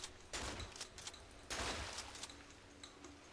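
Faint gunfire in the Cry of Fear video game, with a few sharp, separated shots in a quiet passage.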